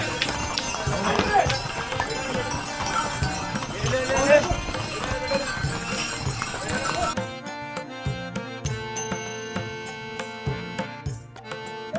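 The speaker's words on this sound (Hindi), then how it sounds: "जैसा कि आप देख रहे हैं, एक ही तरफ से घोड़े आ भी रहे हैं और घोड़े जा भी रहे हैं।" Horses clip-clop along the mountain pilgrimage trail from Bhimbali toward Kedarnath, hooves striking steadily and repeatedly amid a busy, loud mix of crowd noise and music.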